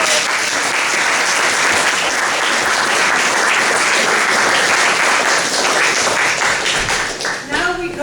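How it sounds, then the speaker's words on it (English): Audience at an award ceremony in Amherst, Massachusetts breaks into a loud, sustained round of applause, dense clapping holding steady for several seconds before tapering slightly near the end. "Round of applause."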